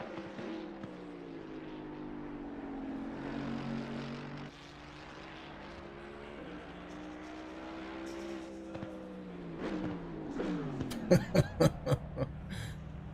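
A Mercedes race car in a sim racing game at Mount Panorama, engine droning steadily with rising and falling pitch through gear changes, then sharp repeated bursts near the end as it shifts or backfires.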